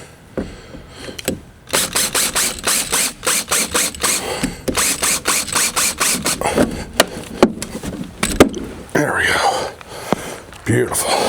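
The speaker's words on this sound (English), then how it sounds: "All right, last one to drill out." A power drill bites repeatedly into a fender fastener on a Jeep Gladiator Rubicon, loud rhythmic bursts of grinding and ratcheting pulses close by, with brief pauses between them.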